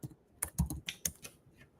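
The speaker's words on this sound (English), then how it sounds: "Let me just type in plumber Atlanta," Keys clatter on a computer keyboard as a short search is typed, a quick burst of about a dozen close, crisp taps with uneven rhythm and no talking.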